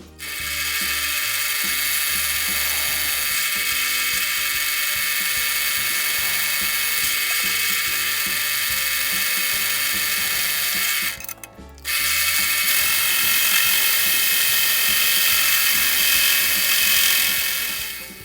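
A loud, steady high-pitched mechanical whine runs almost continuously, with a brief stop and restart partway through, as an electric drill bores holes into scrap steel.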